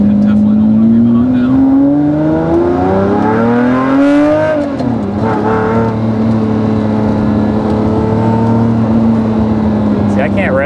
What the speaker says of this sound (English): See, I can't rev it up that high because the gears are so long.